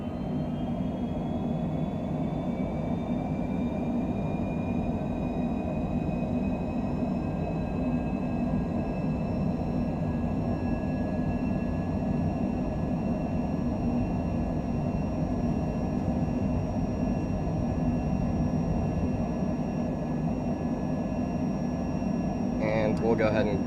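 Jet engines of a Cessna Citation Longitude spooling up for takeoff in Microsoft Flight Simulator 2020, a steady loud roar with whining tones rising slowly in pitch throughout.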